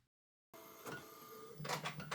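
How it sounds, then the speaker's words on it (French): Epson inkjet printer running a sticker sheet on matte paper: after a brief silence, a close mechanical whirr with feed clicks and rising motor buzz as the print head shuttles, alone without speech. "Pendant que l'impression se fait"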